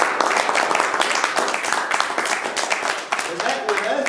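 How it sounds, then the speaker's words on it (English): Loud, dense audience clapping fills a room at a quiz night for two people, close and sustained, with voices talking over it toward the end. "yes, we can clap for those two"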